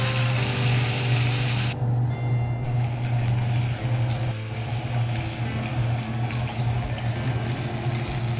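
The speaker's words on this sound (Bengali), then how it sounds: "মাছগুলো আমি ভেজে নিচ্ছি" Fish frying in a pan in a home kitchen: a constant loud sizzle and crackle of hot oil with a steady hum underneath, close and unbroken, no one talking.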